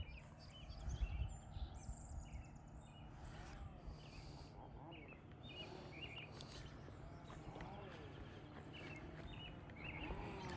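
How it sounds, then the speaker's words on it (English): Various wild birds calling near a lake in Michigan during an outdoor walk: faint, scattered chirps and short song phrases repeating throughout, set against steady low background noise. "Can you hear the different birds?"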